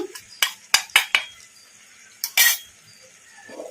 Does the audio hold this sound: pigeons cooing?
no